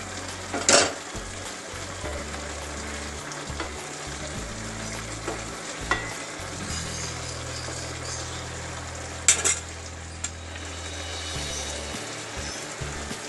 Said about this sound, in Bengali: গরম মশলা দিয়ে দিলাম, এটাকে আমি নাড়িয়ে ফেলব